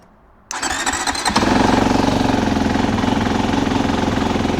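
A Kovi CRS 250 motorcycle, fresh out of the crate, cranks briefly and fires straight away. It settles into a loud, steady, close-up idle with an even pulsing beat and no voices.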